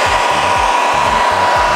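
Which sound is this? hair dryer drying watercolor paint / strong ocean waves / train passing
hair dryer drying watercolor paint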